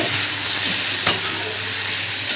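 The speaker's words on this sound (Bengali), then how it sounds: "এবারে চরচর করে শব্দ হচ্ছে" Ridge gourd and tomato masala sizzles and fries steadily in a pan, with a constant hissing crackle and a brief louder burst partway through; no talking.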